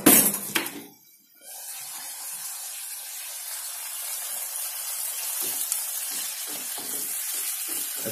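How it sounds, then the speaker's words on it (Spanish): Sofrito of garlic, onion and green and red peppers frying in a pan: after a brief clatter, a steady bright sizzle and hiss continues, with faint stirring scrapes. "Este es el sofrito del arroz, que como he dicho antes, lleva ajo, cebolla, pimiento verde y pimiento rojo. Se sofríe primero."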